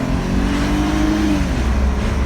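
A 2003 BMW 325i with a six-cylinder engine pulls hard under acceleration on a test drive, a smooth rising engine note heard from close inside the car with no talking.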